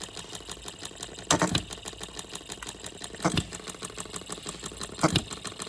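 Small OKMO B02 engine idling steadily with a fast, even ticking chatter, broken by three louder bursts spaced about two seconds apart; no talk.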